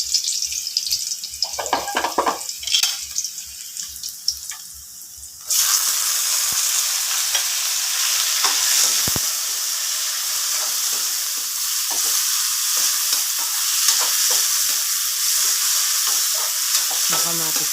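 Tomatoes sauté in a frying pan over garlic, first with scraping stirs and light crackle, then a loud, steady sizzle that surges in and holds, with occasional utensil clicks.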